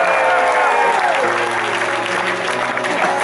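Audience at a London songwriters concert applauds steadily, with crowd noise and a faint held tone running underneath.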